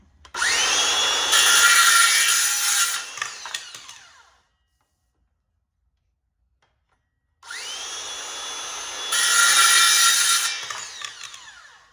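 A power tool cuts through strong, thick PVC pipe in two loud whining bursts of about four seconds each, trailing off with rattles, with a stretch of silence between them.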